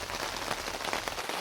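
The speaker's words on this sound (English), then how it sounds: "Surprise, surprise, it's raining." Heavy rain pours onto a campsite during an overlanding trip, a dense, close, constant patter of drops drumming on surfaces, loud and unbroken with no voices.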